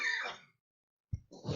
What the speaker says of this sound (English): sorry about the coughing there.